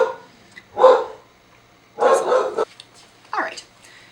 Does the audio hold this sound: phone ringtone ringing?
no